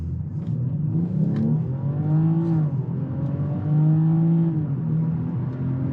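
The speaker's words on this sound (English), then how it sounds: "This is a flat pedal launch." A 2021 BMW X5 45e plug-in hybrid in sport mode accelerates hard from a flat-pedal launch, its engine note climbing through rising whine and revs with a shift midway, heard from inside the cabin.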